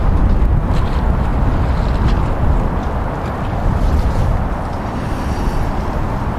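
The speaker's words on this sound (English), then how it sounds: "And now the wind's picking up." Strong wind gusts around a moored boat during a high wind warning, a loud, unbroken rushing roar with heavy microphone buffeting that dips slightly midway and builds again.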